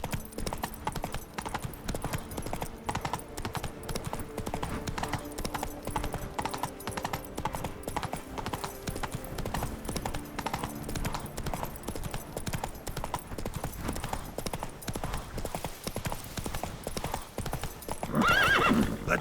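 Hoofbeats of Roach, the horse in The Witcher 3: Wild Hunt Blood and Wine, galloping in a steady, close, loud rhythm through the whole stretch, with a brief snort or whinny near the end.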